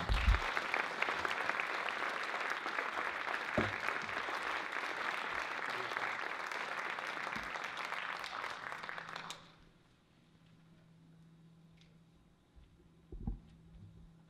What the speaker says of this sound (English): can we give them another huge round of applause?